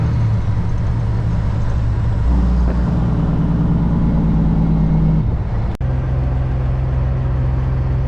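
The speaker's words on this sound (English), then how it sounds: "We're gonna downshift. We're gonna rev it up around 1400 RPM." Kenworth W900 truck with an 18-speed Eaton Fuller transmission, its diesel engine droning loud and steady, shifting in pitch as it is revped to about 1400 RPM for a downshift, heard from the cab with no talk.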